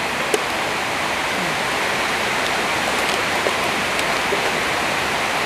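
Steady rain falling outside a shop, a dense even hiss with faint scattered drips and taps throughout, no voices.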